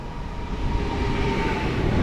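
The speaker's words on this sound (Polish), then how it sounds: "A obok nas pociąg z Nasielska do Warszawy Gdańskiej." A suburban train running from Nasielsk to Warszawa Gdańska passes close by at Warszawa Toruńska station, a steady low rolling rumble with a faint high wheel whine, growing slightly louder, no talk.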